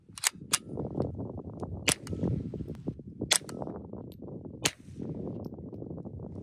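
Several sharp, cracking supersonic gunshots from a suppressed Sig Sauer P322 pistol ring out at irregular intervals, each a crisp snap over a steady background rumble.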